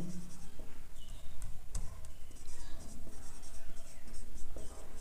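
Marker or chalk scratching a heading onto a board in a trigonometry class, soft intermittent strokes close by with room noise and no talk.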